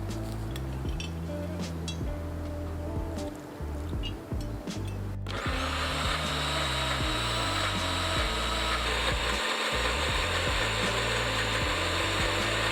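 A NutriBullet blender grinds green curry paste ingredients. Scattered knocks and rattles come first, then a loud, steady motor whine takes over and runs unbroken to the end.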